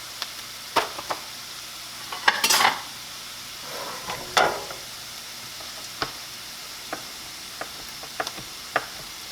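Slices of bologna fry in a pan, a soft continuous sizzle punctuated by sharp clicks and scrapes of a utensil against the pan, close and fairly quiet.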